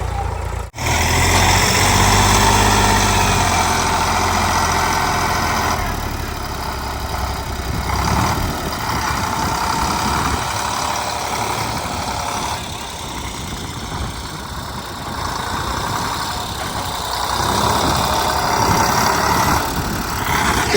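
A diesel tractor engine, stuck in a pit, idles with a low, steady chugging, close by, briefly cutting out at the start before running on.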